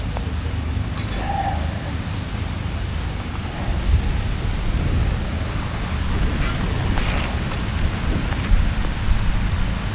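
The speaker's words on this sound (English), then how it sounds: "that's bad, that rain there" Heavy rain at Carrickfergus falls in a dense, constant hiss with low rumbling underneath and occasional bird coos faintly in the background.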